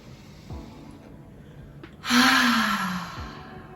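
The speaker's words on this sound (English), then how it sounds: "Let's do some loud exhales to let go of any stress and tension" One loud, long breathy exhale through the mouth follows a quieter intake through the nose during a desk yoga breathing exercise, close to the listener, with no talking.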